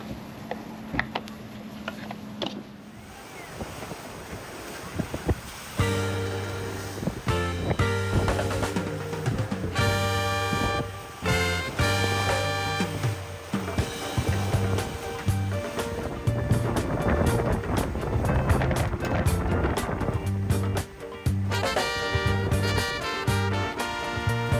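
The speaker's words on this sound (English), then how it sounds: "it was only a short hour and a half sail into the wind to come around to the other side" Sailboat beating into the wind on open ocean for an hour-and-a-half passage around the far side of Little Tobago, with steady rushing wind and water noise throughout.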